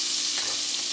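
Minced garlic frying in a pan with onions and peppers for quick fried cabbage, a steady, close hiss of oil that holds evenly through the whole second with no one speaking.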